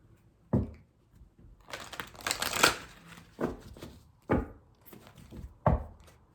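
Playing or tarot-style cards being shuffled up close in several riffling bursts with pauses between them, fairly quiet and with no talking.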